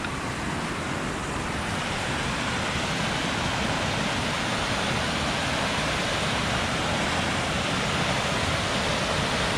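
A creek swollen by heavy rain rushes past in a dense, continuous roar of water, loud and steady throughout with no talk.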